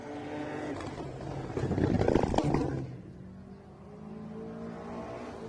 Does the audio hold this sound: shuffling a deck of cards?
no